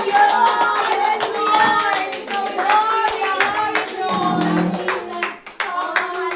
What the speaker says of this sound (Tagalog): Palakpak muli sa Panginoon sa ngayon!